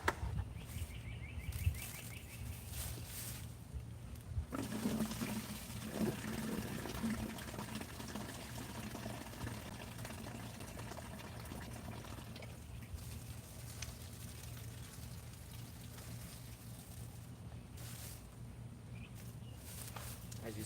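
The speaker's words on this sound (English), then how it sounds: "I just emptied that water in that bucket with that tomato" Water is poured out of a plant tray into a bucket holding a tomato plant in a suburban garden, a steady soft splashing and trickling that runs for the whole stretch amid outdoor background noise.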